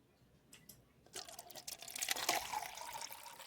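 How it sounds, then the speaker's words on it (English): Juice pours into a glass with a soft, steady liquid splash that starts faint and builds into a fuller stream, close by and alone. "Let me get some juice."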